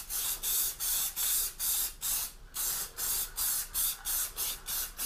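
Short bursts of lacquer hiss from a spray can onto wood in a quick, regular rhythm of about a dozen close, loud sprays with small gaps between them.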